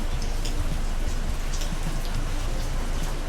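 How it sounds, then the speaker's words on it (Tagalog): Heavy typhoon-season rain falling outside, a dense continuous patter close by with scattered drops striking surfaces and no voices. "Umulan na."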